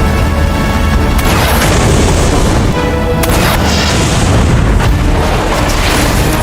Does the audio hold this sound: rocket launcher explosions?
yes